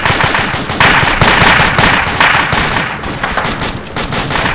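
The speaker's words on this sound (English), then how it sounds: "The enemy machine gun behind it." An enemy machine gun in the military shooter Arma fires long, rapid, unbroken bursts, loud and close, with dense rattling shots filling the whole stretch and no voices.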